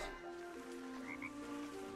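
Croaking from a small frog in a gardening video game sounds over gentle background game music, with a couple of short croaks near the middle.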